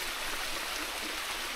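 A waterfall swollen in the rainy season pours with a steady, full rush of water, loud and unbroken from start to finish, with no voices.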